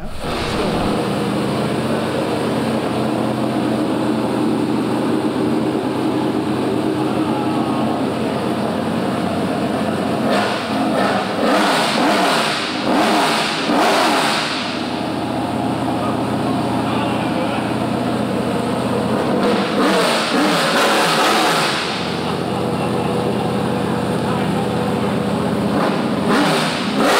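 A Ford Mustang RTR with a 428 cubic inch engine, warm and fresh off the dyno, idles with a loud, constant rumble, with two sharp bursts of revving and voices talking over it.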